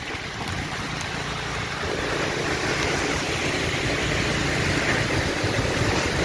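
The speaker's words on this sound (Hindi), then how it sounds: "काफ़ी तेज हवा चल रही है इस वक्त।" Strong wind near Marve beach in Malwani, Malad, a loud continuous roar of gusts buffeting the microphone, swelling slightly partway through, with no speech over it.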